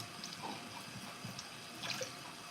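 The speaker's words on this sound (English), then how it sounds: "Oh, you can hear the water?" Water runs from a tap in a home, a soft continuous faint wash with slight splashing variations, quiet and with no one speaking.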